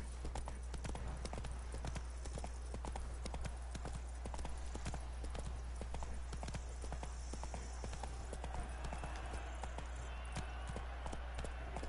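Hooves of the horse Roach clip-clopping in a steady rhythmic gait in Witcher 3, each strike distinct and close over a constant low game drone, with faint voices talking.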